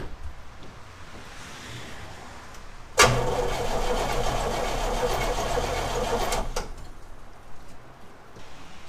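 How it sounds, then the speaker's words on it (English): The engine of a 1978 Oldsmobile Toronado XS barn find cranks over steadily for a few seconds without firing, a loud whirring churn that starts abruptly and cuts off, with quiet background before and after. "It's nice to see the engine rolls over pretty freely, actually."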